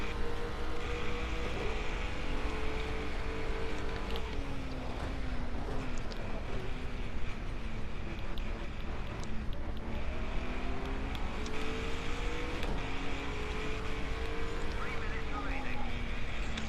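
Racing cars roar continuously in a racing video game as Honda NSXs follow close behind, engine pitch rising and falling through gear shifts, with a voice talking over the steady noise.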